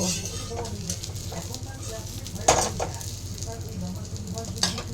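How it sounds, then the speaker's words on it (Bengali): Lentil fritters (bora) frying in a pan, a continuous soft sizzle with a few stirring clinks and scrapes, close but moderate in level, with some background voices underneath. "চলো এখন বড়াটা ভেজে নিচ্ছি"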